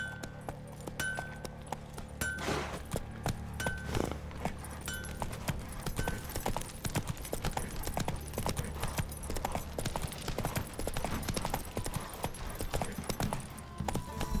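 Roach, the horse in The Witcher 3, gallops in a steady, continuous clip-clop of hooves, close and loud, over a constant bed of game music and ambience, with no voices.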